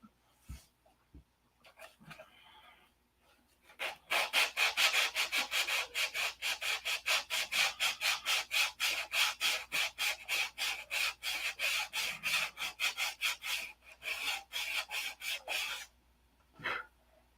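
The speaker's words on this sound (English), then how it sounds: "A lot of sanding left to do." Wood is sanded by hand on a 1/2-scale Cobra model car in quick, rhythmic back-and-forth rasping strokes, close and continuous for several seconds, with a few taps and pauses before and after.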